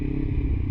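A motorcycle exhaust rumbles deep and steady through a Forcite MK1S helmet, a continuous low drone lasting under a second with no break.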